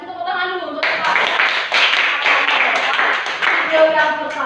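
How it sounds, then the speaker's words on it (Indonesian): Classroom of young students clapping for a classmate, a brisk burst of hand claps that starts after a teacher's voice and continues steadily, with talk mixed in. "tepuk tangan dulu untuk Devan"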